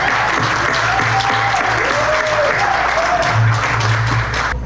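A hall audience at a community appreciation night applauds a speaker, steady close clapping that carries for several seconds with faint voices underneath.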